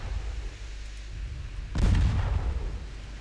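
A warship's secondary guns fire in the naval game Ultimate Admiral Dreadnoughts: one heavy booming shot bursts out after a low rumbling quiet and then rolls away into a fading rumble.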